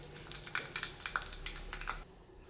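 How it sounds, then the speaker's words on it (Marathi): Small mustard seeds crackle and pop in hot oil, a rapid run of sharp close snaps and sizzles over about two seconds before dying down. "मोहरी छान तडतडली आहे"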